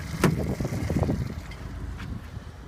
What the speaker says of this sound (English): Idles really nice.